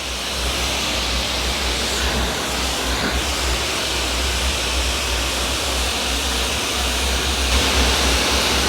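Steam cleaner spraying water onto a wall, a steady loud hissing rush that runs continuously and evenly throughout, with no talking.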